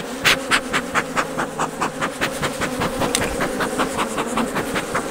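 Agitated honey bees swarming close during a hive inspection in western Oklahoma, a dense loud buzzing drone pulsing with rapid beats of wings as individual bees dart near the microphone.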